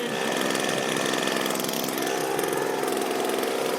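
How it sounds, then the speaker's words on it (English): Small engine of a homemade gold vacuum idling with suction, a steady close rattling drone with a fast pulsing beat that stays even for several seconds. "Got suction just as that idle right there. That's idle."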